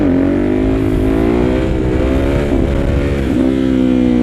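A motorcycle engine revs hard and steadily during a clutch-up wheelie, a loud, close, sustained whine that dips briefly twice as the throttle shifts.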